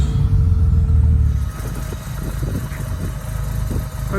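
A 1958 Jaguar XK150S roadster, freshly out of the workshop and still cold, idles with a steady low, rumbling engine note, close and loud throughout.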